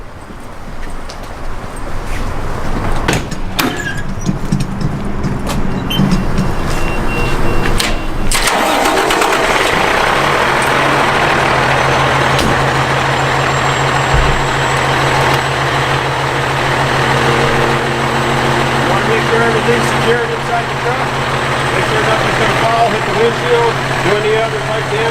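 A truck engine starts up and settles into a steady, close idle with a low continuous rumble, while a person talks over it intermittently.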